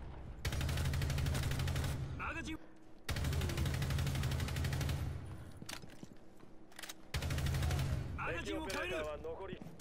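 Pistol gunfire in Rainbow Six Siege, with three dense loud bursts of rapid shots separated by short gaps, and voices talking in between and over the firing.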